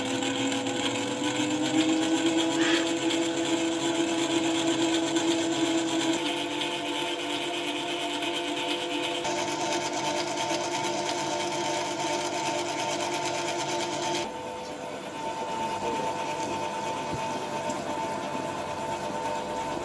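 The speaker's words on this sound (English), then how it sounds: "I'm going to put it back in my stand mixer over here, and then it does its thing" A stand mixer runs continuously with cake batter for a white forest cake, a steady close motor whir with a grinding, slightly shifting tone that changes pitch partway through, no talking.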